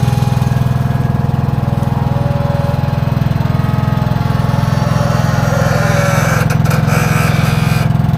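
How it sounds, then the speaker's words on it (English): A loud engine idles steadily close by with a constant low throbbing drone, with brief clanks near the end and no talking. "We've got the engine running."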